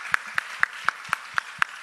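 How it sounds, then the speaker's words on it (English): Seven evenly spaced, distinct hand claps ring out in a quiet room after a panel discussion, sharp and isolated rather than a full crowd's applause. "Let's give them a round of applause"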